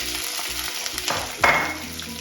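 Mustard seeds, fennel and green chilli sizzle and crackle in a hot curry pan, with a steady frying hiss and a sharper burst of spitting partway through; no one speaks.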